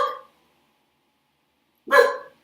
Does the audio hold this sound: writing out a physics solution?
no